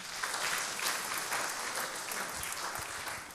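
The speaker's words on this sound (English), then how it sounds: "Give her a round of applause." A church congregation applauds during a Lent sermon, a brief round of fairly soft, scattered clapping lasting a few seconds, heard from a distance.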